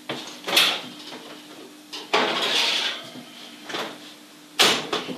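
Oven door clanking and a metal baking tray of scones being slid out and set down, several sharp metallic knocks and scrapes separated by brief pauses, close and alone.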